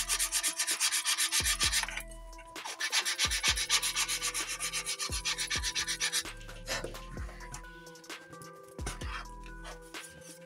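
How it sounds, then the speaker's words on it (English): Sanding wood on boat planking coated with glue, rapid rhythmic rubbing strokes in bursts, close and steady, with a few knocks between passes and a dog faintly audible. "Why I do sanding right now?"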